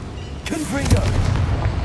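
A Confringo fire spell from Hogwarts Legacy detonates near a mine boiler, a sharp blast about halfway through followed by a short rumbling tail, with brief speech just before.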